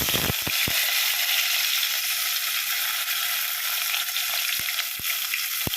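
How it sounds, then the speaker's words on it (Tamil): Onions fry in oil for a brinjal kara kuzhambu, giving a continuous close sizzle with a few sharp clicks and scrapes from stirring, and no one speaks. "வெங்காயம் நல்லா வதங்கணும்."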